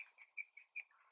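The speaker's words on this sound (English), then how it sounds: "The birds are chirping today." Birds chirp outdoors in quiet surroundings, giving faint, high, repeated short tweets at a fairly regular pace, with nothing else audible.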